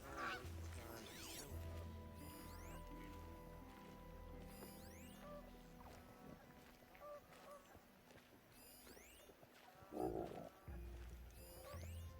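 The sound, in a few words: geese honking in the video game Horizon Zero Dawn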